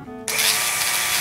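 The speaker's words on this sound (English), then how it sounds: "But I'll just do a quick grind and test it for carbon." A handheld grinder bites into a steel pipe sample, prepping it for carbon analysis, starting abruptly and holding a loud, steady, hissing abrasive roar close by.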